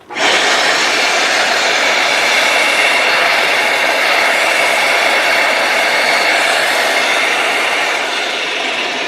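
Hoover PowerScrub XL pet carpet cleaner switched on, a loud, steady motor and suction roar that starts abruptly and holds constant throughout, with no talk.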